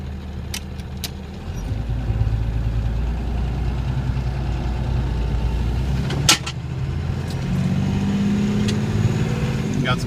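Inside the cab of an FZJ80 Land Cruiser with a 6BT diesel while driving, a low, steady engine drone with the windows up and a brief knock partway through. A voice talks over it.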